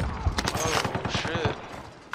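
Gunfire in a shooter video game, a rapid run of sharp repeated shots fairly close, fading out toward the end with muffled talk mixed in.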